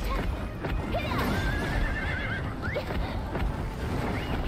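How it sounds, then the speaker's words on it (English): A horse gallops with steady clip-clop hoofbeats and lets out repeated high whinnies and neighs during a race, close and loud throughout with continuous busy background noise. "I got a zoomy, zoomy horse, man."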